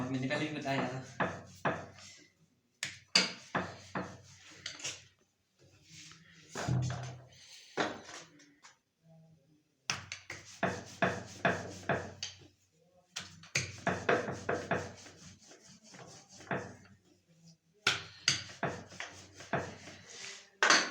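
Paratha dough being rolled out with a rolling pin on a board: repeated rubbing, scraping strokes in bursts, close and fairly quiet, with short pauses between passes and someone talking at times.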